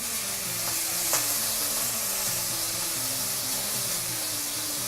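Raw banana peels fry with browned garlic and spices in a pan, giving a continuous close sizzle and crackle with faint stirring underneath.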